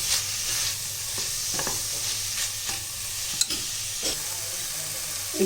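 Onion, tomato and spice powders sautéing in a pressure cooker for chicken curry, a soft steady sizzle with several light scraping stirs of a spoon against the pot.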